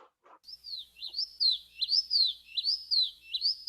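After a couple of short faint sounds, a recorded bird delivers a clear run of smooth, repeated three-part whistled phrases with sliding pitch, steady and uninterrupted.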